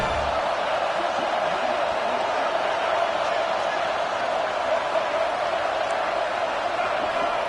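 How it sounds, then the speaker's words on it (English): A large stadium crowd at a Michigan football game roars as a dense, continuous wash of cheering that stays constant and loud, with a voice speaking over it. "This crowd bringing the energy and noise early."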